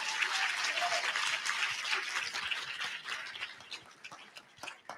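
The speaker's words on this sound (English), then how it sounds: "Will you clap again?" Audience applause at a university summit session on teaching and student mobility, dense clapping that starts full and gradually thins into scattered claps as it fades.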